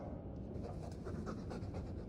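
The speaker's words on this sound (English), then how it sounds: "I'm sick of what's-his-name staring and panting." A Mabari war dog in the Dragon Age 2 video game pants steadily in rapid, even breaths, close and moderately loud over a low background hum, with no talk.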